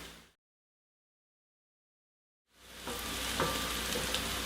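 Onions, garlic and celery sizzle steadily in a pot, a loud, even frying hiss that rises after a silent gap and carries on without talk.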